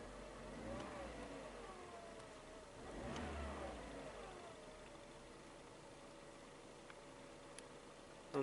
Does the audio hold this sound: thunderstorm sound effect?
no